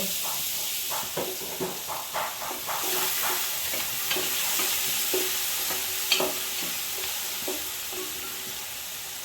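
Cut ginger frying in oil for a large batch of mutton bhuna masala, a steady close sizzle with repeated scraping and stirring strokes throughout, no talk.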